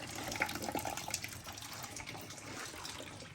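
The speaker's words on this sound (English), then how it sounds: "this is ridiculous how slow it's draining" Water trickling and gurgling as a heating system drains slowly, a soft, continuous watery flow with a few brief splashy bubbles early on, close and fairly quiet.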